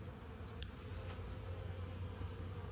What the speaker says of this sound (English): most of it is just bees that'll take it back to the hive